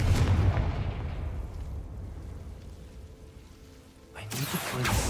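A Confringo explosion spell fired in Hogwarts Legacy, a deep sustained rumbling blast that slowly decays over several seconds before a fresh burst of impact noise near the end.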